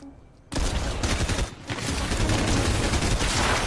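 Fortnite gunfire bursts out after a short quiet start, loud rapid shots filling the rest with a brief dip midway, as in a busy battle-royale shooting exchange.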